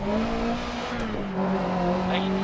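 In the Dirt Rally video game, a Renault Alpine A110 rally car slides over snow and ice in Sweden, its engine droning at a steady high pitch as it skids continuously.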